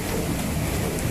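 Steady, dense rain pours in a windy storm on a hilltop, a constant close hiss with a low rumbling undertone and no talking.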